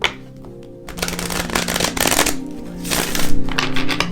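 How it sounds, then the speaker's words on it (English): A deck of tarot cards being shuffled by hand, a rapid papery riffling that swells and falls in bursts over a steady room background, loud and close with no voices. "I pre-shuffled the decks, but I like to shuffle them one more time"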